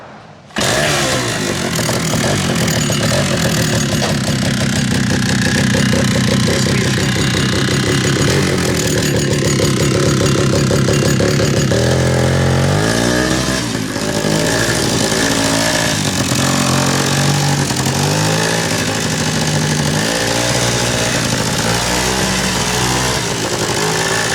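A 1968 Rokon Trail Breaker two-wheel-drive motorcycle's kickstarted two-stroke engine runs loud and close, a steady buzzing rattle that changes pitch partway through as the revs shift.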